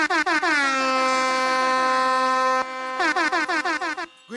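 Loud air or truck horns blare at an outdoor political rally, one long sustained blast followed by a rapid string of short honks, with no talk over them.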